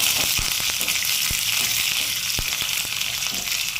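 Mustard seeds, cumin, curry leaves and dried red chillies sizzling in hot oil for a tempering poured over ridge gourd chutney, a loud, close, steady hiss broken by sharp spattering pops.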